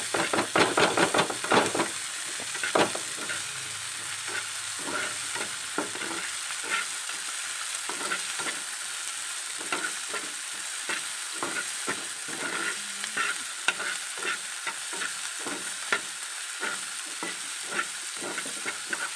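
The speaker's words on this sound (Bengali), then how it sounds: "এটাকে এখন ভালো করে একটু ভেজে নিব আর কি, খুব ব্রাউন করব না, হালকা ব্রাউন করব" Soup ingredients sizzle in a pan as they lightly brown, a low steady hiss under repeated sharp clacks and scrapes of a spoon stirring throughout.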